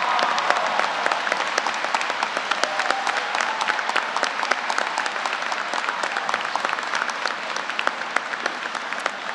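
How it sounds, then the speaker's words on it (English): Graduates at a university winter commencement ceremony applauding their families and friends, sustained dense clapping from a large crowd filling a hall, loud and even throughout. "so the graduates can applaud you"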